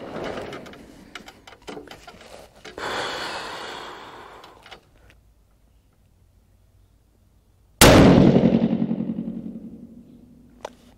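A 6.5 PRC rifle loaded with Vihtavuori N565 fires a single cold-barrel shot, a sudden loud crack with a long rolling echo that follows several seconds of quiet handling noise.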